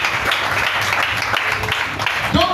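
A church congregation applauds during a French-language sermon, a steady, dense wash of clapping filling the whole stretch, with a voice breaking through near the end.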